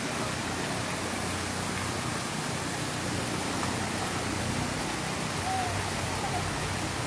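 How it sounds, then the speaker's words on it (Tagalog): A shower runs in a hotel swimming pool area, a steady loud hiss of spraying water that stays constant throughout, with no clear voices over it. "Ayan na may nag-shower oh."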